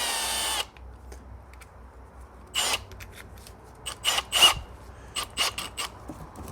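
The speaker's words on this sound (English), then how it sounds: "All right, now I'll go to this step bit." A power drill with a step bit enlarges a hole in a boat hull, heard as an opening burst followed by a series of short, scraping, grinding pulses separated by quiet gaps.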